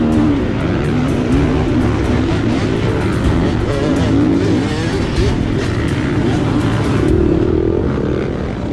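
Several dirt bike engines roar together at a race, a dense, loud, continuous drone with shifting revs and no pauses, close and filling the whole stretch.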